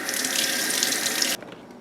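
A kitchen tap runs steadily into a sink as fresh garden vegetables are rinsed under the stream, a close, continuous broadband rush that stops abruptly near the end, leaving faint room tone.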